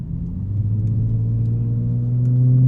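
A 2022 Lexus IS350 F Sport engine hums steadily from inside the cabin, building gradually in pitch and loudness as it accelerates through a roundabout, with no talk.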